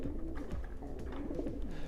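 Racing pigeons coo in a breeding loft, soft low rolling calls repeating close by with no talk over them.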